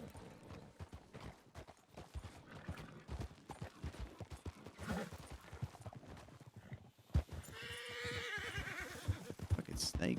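Horses whinny and hooves clip-clop on a ranch in a roleplay video game, with rhythmic hoofbeats throughout, a loud neigh near the end and people talking.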